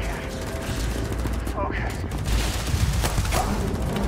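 Gunfire in the video game Starfield, with a weapon that holds four rounds; a rattling, dense string of shots and mechanical clatter over a constant game soundscape, with a voice talking at times.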